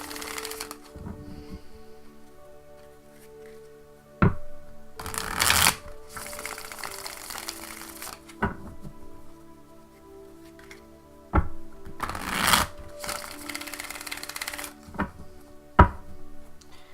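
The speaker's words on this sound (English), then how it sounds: "Just a few more shuffles like this, and I will cut the deck." Crisp bursts of tarot cards being shuffled, several riffles separated by quieter pauses and a few sharp taps, close up with no talking.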